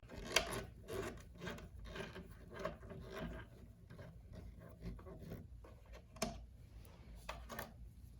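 A small screw is turned out of a Subaru STI side mirror and a plastic trim piece is worked loose: faint, close ratcheting clicks and rubbing scrapes in an irregular rhythm, with a sharper snap midway and more clicks after.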